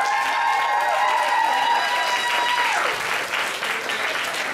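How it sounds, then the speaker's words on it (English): An audience gives a big round of applause for Mr. Richard Mulcair, a sustained wash of clapping throughout, with a tonal hum fading partway and the clapping carrying on to the end. "And another big round of applause"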